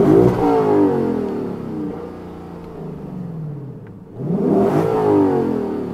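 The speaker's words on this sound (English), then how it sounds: "Let's do some revving." A Lexus LC 500 V8 with a manual gearbox revs hard, the engine note rising and then falling away before a second strong rev climbs back up, loud and close with no talking.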